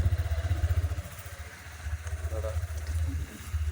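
A Honda NX200 motorcycle engine thumps with a pulsing low rumble while riding slowly over a rough, broken road, with faint rattles and clatter from the bumpy surface.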